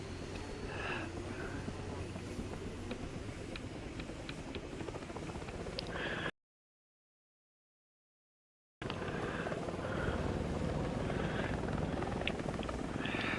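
A video game aircraft engine spools back up after a restart, a steady loud rotor-like drone that swells over several seconds, with a gap of silence midway.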